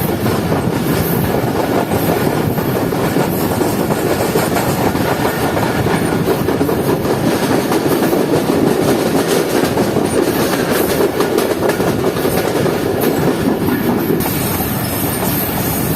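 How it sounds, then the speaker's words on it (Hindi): The Sir Syed Express train in Pakistan rumbles steadily along the rails, its wheels clattering and droning continuously throughout, with a faint high squeal riding over the noise. "इस वक्त ट्रेन पहुंच रही है अपने तीसरे स्टॉप पर"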